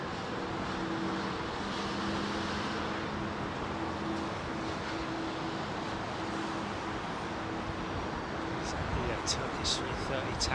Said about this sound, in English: Turkish 330 taxiing out.